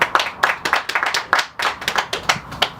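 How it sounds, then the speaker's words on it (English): Seminar attendees clap for a fellow attendee, loud, close, somewhat uneven bursts of hand claps in a quick, irregular rhythm that stays strong throughout. "Can we give him a round of applause?"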